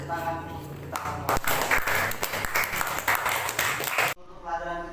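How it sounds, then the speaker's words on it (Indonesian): A school class claps their hands in a burst of applause lasting a few seconds, fairly close, with a teacher's voice speaking before and after. "beri tepuk tangan untuk kita semua"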